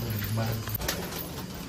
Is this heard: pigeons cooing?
yes